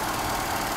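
A Mercedes-Benz W123 230E, which has no idle control motor, idles in a short, steady, even low rumble with no break.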